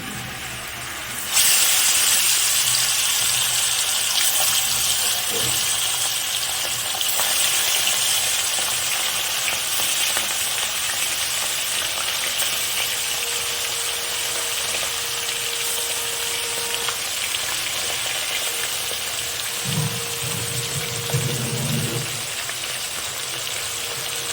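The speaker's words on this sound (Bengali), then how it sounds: "গরম হয়ে গেছে এবার কোন মাছগুলোকে ছেড়ে দেওয়া হবে" Koi fish frying in hot oil in a pan, giving a loud, steady hiss and sizzle that continues for the whole stretch with no talking.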